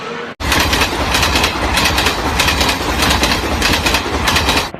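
The Sonpur Weekly Express roars loudly and continuously with rhythmic clickety-clack and bursts of wheel squeal. The sound begins abruptly after a brief quiet start and stays close and dominant throughout.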